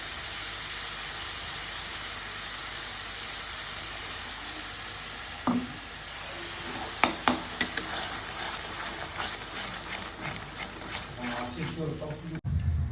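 Ginger, garlic and tomato paste hits hot oil with onions in a pan for Katla fish curry, giving a low steady sizzle with a few sharp stirring clinks midway and a louder clatter near the end.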